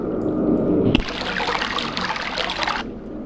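A watery trickling, splashing sound from the video game Myst, steady and fairly close, with a low rumble at the start before a brighter flowing wash takes over for a couple of seconds.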